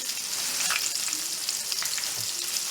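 Pork chops fry in a skillet with a steady, dense sizzle and crackle that stays close and even throughout, with no talking.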